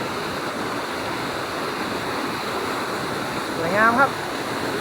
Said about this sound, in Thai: น้ำตกห้วยแก้วชั้นที่สาม น้ำตกห้วยแก้ว จังหวัด เชียงราย